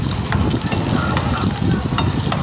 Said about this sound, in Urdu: پیاز کو ہم فرائی کر لیں گے۔